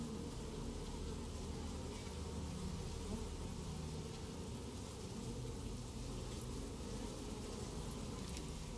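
Bees buzzing in the video game Tiny Echo, a continuous, even insect drone that stays at a moderate, steady level throughout with no talking over it.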